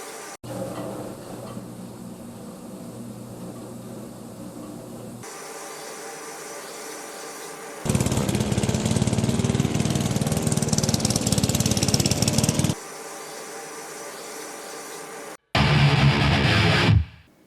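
A Grundfos Scala2 water pump station runs with a steady mechanical hum that steps up to a louder, rougher roar for a few seconds at a time before dropping back, and there is no talk.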